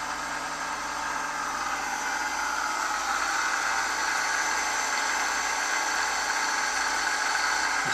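A vacuum-bleed pump pressurizes a WP shock used on KTM and Husaberg bikes, refilling the shock body and reservoir with oil, giving a steady mechanical hum and hiss that stays even throughout, with no talking.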